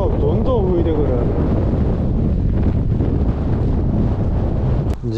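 Strong wind gusts buffet the microphone on a seaside breakwater during shore fishing, with a loud, steady rumbling roar throughout. A voice speaks briefly over it.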